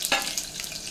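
Mustard seeds, cumin and garlic sizzle and crackle in hot oil in a pan, a steady close hiss with a few sharp pops as they fry.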